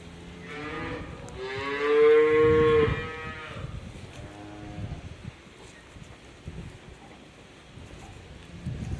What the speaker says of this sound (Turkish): etçi, limuzin, şarole, angus, blonde ineklerimiz